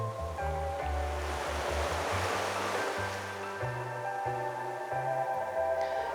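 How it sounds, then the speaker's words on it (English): Calm ocean waves wash onto the beach at the Grand Hyatt Baha Mar resort, a soft broad surf rush swelling and fading beneath steady background music. "And here we are at the beach."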